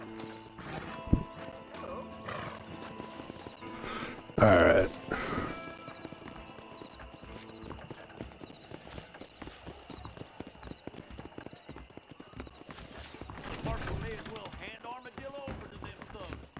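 Horse hooves clip-clop steadily through a Red Dead Redemption game scene, mid-distance and moderately loud, with a brief whinny and someone talking over the gait.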